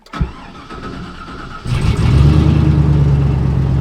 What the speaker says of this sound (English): if I start up the truck